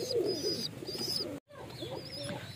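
Domestic pigeons cooing near a nest as a mother pigeon feeds her chicks, with close, soft rolling coos and faint chirps that break off briefly partway through.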